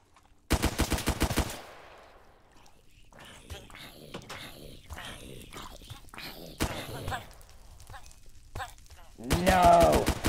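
Video-game gunfire in an outback wilderness survival game: a loud rapid burst of shots opens, followed by a stretch of talking, then another sharp volley near the end.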